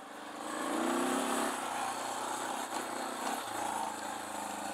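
A Suzuki DR650 dual-sport motorcycle engine pulls up a slippery hill on a Mojave desert ride, a steady mid-distance thrum that rises and holds with slight wavering in pitch.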